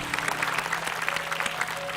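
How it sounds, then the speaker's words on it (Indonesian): A studio audience at an Indonesian talk show claps for two guests, a steady patter of hands over a faint sustained tone in the background, with no voices on top. "Tepuk tangan buat Stephanie dan juga Lisa"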